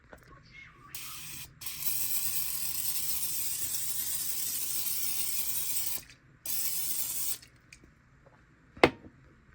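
Long hissing bursts of cooking spray onto chicken karaage in an air fryer, one short then a sustained spray for several seconds, another brief burst, followed by a sharp click.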